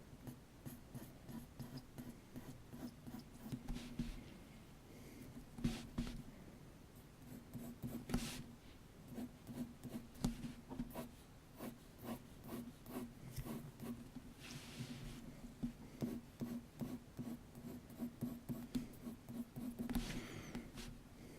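Pencil sketching a realistic ear on paper: steady, close scratching and rubbing strokes in continuous, uneven rhythm, with a few sharper bursts, quiet and alone throughout.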